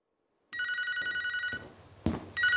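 A telephone rings in rapid trilling bursts, loud and close, then cuts off into a short clatter like a handset being picked up before another ring begins.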